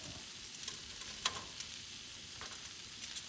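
Chicken thigh skewers grilling low carb, a quiet steady sizzle and crackle of fat on the grill with a few sharp pops and clicks scattered over about three seconds, no voices.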